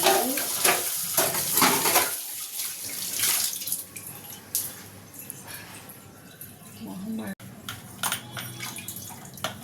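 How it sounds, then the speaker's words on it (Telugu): Dishes being scrubbed and rinsed under a running kitchen tap, with a steady water stream, splashes and occasional clinks of pots, close and fairly loud, while a person talks intermittently. "ఈలోపు కొన్ని గిన్నెలు ఉన్నాయి, అవి తోమేస్తా."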